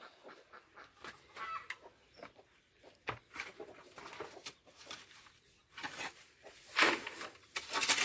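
Two hens sit together in a basket on an organic egg farm, giving soft, intermittent clucks that stay faint and scattered throughout.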